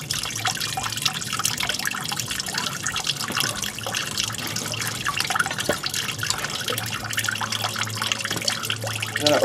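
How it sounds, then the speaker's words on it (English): Coolant squirts and splashes out of a 1999-2004 Jeep Grand Cherokee radiator, a continuous busy spattering of liquid with dense drips and trickles at close range, no speech. "it went from tinkling to just squirting out fucking everywhere"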